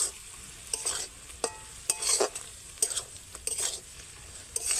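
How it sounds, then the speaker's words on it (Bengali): Cabbage and spices stirred in a pan over a low flame: repeated close scraping strokes of a spatula at an uneven rhythm over a faint sizzle, with no talking. "এইবার বাঁধাকপি আর সমস্ত ধরনের মশলা নাড়তে থাকতে হবে, আর এই সময় উনুনের আঁচটা একদম কমিয়ে দিতে হবে।"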